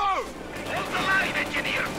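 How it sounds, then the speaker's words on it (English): A half-track's quad-mounted .50 caliber machine guns fire in the Company of Heroes 2 video game, a short burst of rapid gunfire with a faint echoing tail, heard at moderate distance. "all we have is a half-track here with a quad-mounted 50 caliber, which can actually do a lot of damage if you're not careful"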